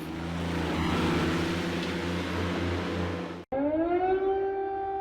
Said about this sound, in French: Les sirènes ont à nouveau retenti vendredi à Kiev